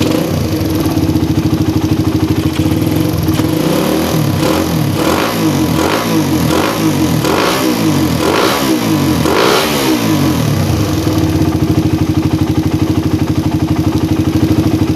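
Motorcycle engine revved repeatedly during carburetor tuning: a loud, close idle climbs into a rapid series of sharp throttle blips, then settles back to a steady idle, with no voices.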